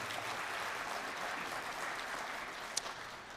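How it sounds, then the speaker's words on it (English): An audience at an Indigenous international education conference claps steadily for a performer, soft and even, heard from a distance, with one brief sharper clap near the end and no talk. "Let's give her a round of applause."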